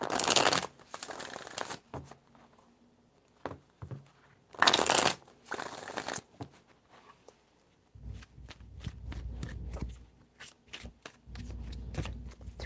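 Tarot cards are shuffled close by in several separate bursts of crisp riffling and flapping, with quiet pauses between them.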